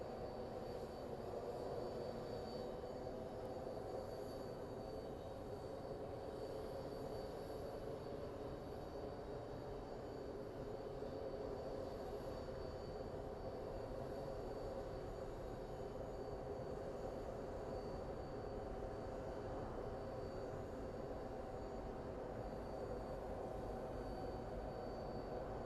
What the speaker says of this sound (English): So we have our CRJ 900 coming in from Tulsa.